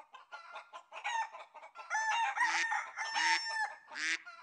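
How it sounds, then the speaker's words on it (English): A chicken gives a run of clucks and short crowing calls, close and clear with no other sounds around it. "Chicken."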